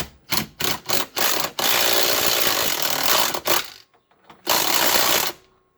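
Impact wrench driving a 13 mm nut on a Jeep Wrangler JK steering wheel: several short loud bursts of rattling hammering, then a sustained run of about two seconds, followed by more bursts, close and with no talking.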